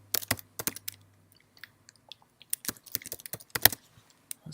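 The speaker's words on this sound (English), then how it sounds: "Let's type in" Fingers type on a computer keyboard in short, irregular bursts of close, crisp clicks with brief pauses between them, alone without talk.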